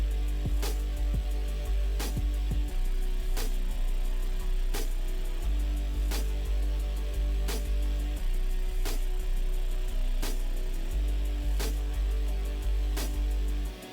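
A steady drum beat with crisp snare hits and hi-hats over a heavy, booming bass, looping evenly with no voices.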